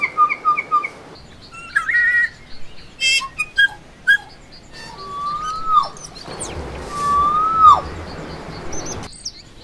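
Several New Zealand native birds sing in turn on an island sanctuary: quick repeated chirps, bright whistles and long, clear fluting notes that slide downward, fairly close in a quiet setting.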